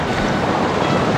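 Water of a clean stream at a camping spot, flowing in a broad, continuous rush that stays close and fairly loud, mixed with some wind buffeting on the microphone.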